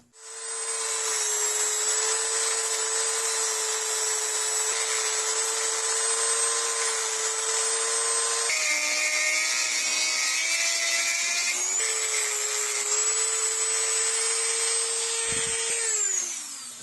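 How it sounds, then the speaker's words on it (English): Dremel rotary tool grinding a worn tooth on a 1994 VW Jetta MK3 parking brake lever, a loud, steady high-pitched whine held for about fifteen seconds, its pitch dropping and shifting as load changes before spinning down at the end. "I'm going to use my Dremel tool and see if I can shape that back into another sharp point"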